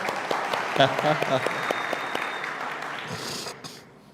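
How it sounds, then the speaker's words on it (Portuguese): A church congregation claps for a pastor, a dense patter of hands that fades out toward the end. Some voices and other noises mix in under the clapping. "Uma salva de palmas"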